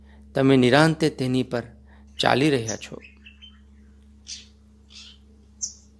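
A calm voice speaks first, then a few faint, brief bird chirps sound from trees in a quiet outdoor setting, spaced apart in near silence.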